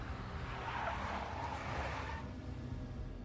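A big black Mercedes in the video game Max Payne roars steadily close by, its engine and a sustained tire screech holding loud throughout before easing off slightly at the end.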